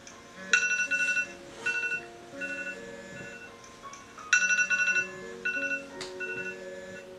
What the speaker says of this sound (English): she can't hear the alarm go off